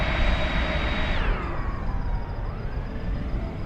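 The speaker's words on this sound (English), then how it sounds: "Here's some jet noise." Jet aircraft roaring steadily in Microsoft Flight Simulator 2020, a loud continuous engine drone whose whine sweeps downward in pitch as it passes, heard alone without talk.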